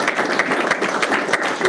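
An audience breaks into applause, a dense, steady wash of many hands clapping at once, fairly loud and continuous through the short stretch.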